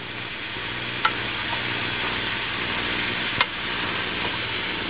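Vegetables stir-fry over high heat in a pan. A dense, steady sizzle runs throughout, broken by two brief utensil knocks against the pan, with no talking.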